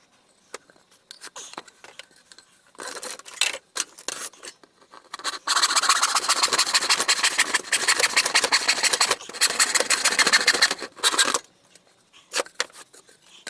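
A piece of wood being cut off for a spice rack, quiet start then a long run of rapid rasping saw strokes, close and loud, pausing briefly a couple of times before tapering off, with no talking.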